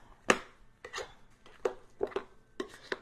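Ricotta cake batter is folded and mixed in a bowl: a few separate soft, wet scraping and slapping strokes with short pauses between them, close by and fairly quiet.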